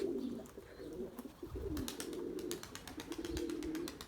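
Pigeons coo in low, rounded repeated calls close by, with wingbeats and rustling flutters breaking in as birds land nearby.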